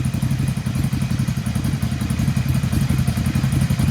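A motorcycle engine fitted with a dB killer idles about 1.5 meters away with a steady, throaty, pulsing exhaust burble, muffled rather than loud, continuous throughout.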